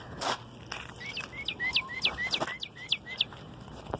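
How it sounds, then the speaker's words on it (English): A bird calls from a rooftop in a quick run of sharp rising chirps, about a dozen in close succession after a loud opening squawk, clear and nearby. "He does the bird scream."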